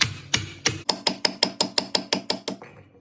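Peppermint candy is pounded with the bottom of a pot to crush it finely, giving about a dozen loud, close, evenly spaced thuds, the first few heavier and slower, with no talking.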